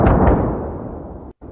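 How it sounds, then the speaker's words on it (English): Cannon artillery sound effect: a single heavy, close blast with a sharp attack that rolls off into a long decaying rumble, cut off abruptly near the end. "What about cannon artillery?"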